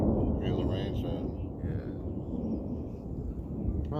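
Thunder rumbles through a thunderstorm with rain starting, a low continuous roll that fills the clip at moderate loudness, with faint background sounds and no clear speech.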